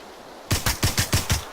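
A rapid burst of about six gunshots from the PUBG battle royale game, evenly spaced and punchy, follows a moment of quiet hiss.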